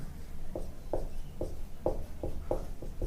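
Chalk or marker strokes on a board during a chemistry lesson, a steady series of short, quick taps and scrapes over faint room noise, with no one talking.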